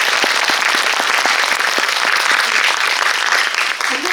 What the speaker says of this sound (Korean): 그 감독님과 배우분께 큰 박수 부탁드릴게요